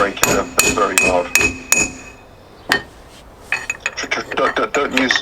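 A hammer strikes a car brake pad, sharp metallic clanks in a quick run of about six blows, then a single hit, then a denser burst of lighter tapping.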